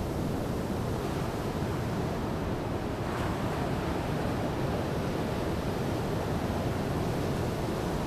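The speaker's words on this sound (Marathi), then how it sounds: "फेसाळलेला समुद्र थोडासा." Foamy, milky surf washing onto a Konkan shore during a bait-casting fishing outing, a constant loud roar of breaking waves with wind buffeting the microphone and no voices.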